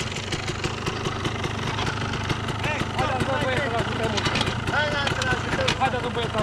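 An enduro motorcycle engine idles steadily and loudly up close at a hard enduro race in Cugir, its continuous rumble running under people talking throughout.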